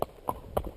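A small cob moving at a slow, balanced gait between a jog and a trot, with about three distinct hoof strikes at an even rhythm, near and moderately soft, with no talk over them.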